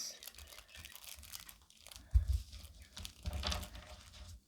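Foil trading card pack wrapper for a football card collection being torn open, with a few short crinkling rips and crunches close up, the loudest bursts coming about halfway through and again near the end.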